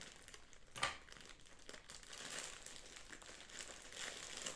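A plastic package holding AliExpress skirts is cut open and crinkled, with one sharp snip or tear followed by soft, ongoing rustling and crackling of thin plastic close by.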